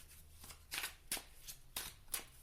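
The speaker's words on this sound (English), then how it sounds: "I'm going to pull some cards for this." Oracle cards from a Higher Love Oracle deck being shuffled, five or six soft papery riffles in an uneven rhythm, close but quiet with no talk.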